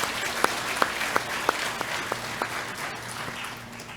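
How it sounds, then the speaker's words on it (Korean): Congregation at a church service applauding the Gloria choir after a hymn, steady clapping from a room full of people, moderately loud with no voices over it. "한번 박수 한번 보내주시기 바랍니다."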